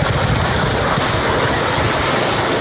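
Water being dumped into a tarp wrapped around an athlete for cold-water immersion cooling, a loud, steady rushing pour that fills the whole clip without a break, with no talk over it.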